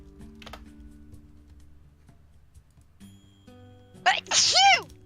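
A single sharp sneeze bursts out near the end, loud and close, after quiet background with faint clicking.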